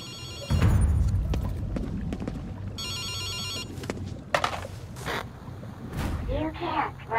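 A telephone rings in the video game Ghostwire: Tokyo, its electronic trill repeating in bursts among eerie ambient game sounds, caws and low rumble.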